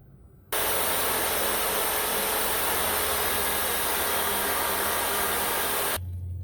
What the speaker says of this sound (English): We'll hit it with that buffing wheel again and see if we can't get it to shine up even better